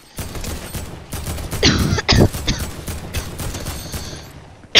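Rapid gunfire bursts in the Fortnite video game, with dense, loud overlapping shots in quick clusters and a final sharp blast.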